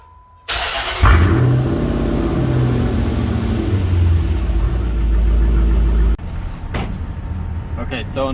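A car engine cranks and catches after an oil change, then runs with a steady raised idle and revving for several seconds before cutting off abruptly, followed by quieter background noise.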